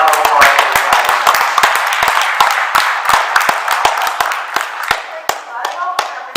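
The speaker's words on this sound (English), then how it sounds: "Round of applause for Ivy." A crowd at a Quarters for Kids holiday event claps for Ivy Meadors, sharp individual handclaps sounding close and scattered, with cheering voices and chatter mixed in before the clapping thins out.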